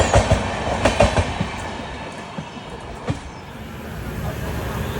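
A superfast express train (22656 Hazrat Nizamuddin–Ernakulam) rushes past Surat station without stopping, with a continuous broadband roar and rhythmic clicking of wheels over rail joints, loud and close throughout.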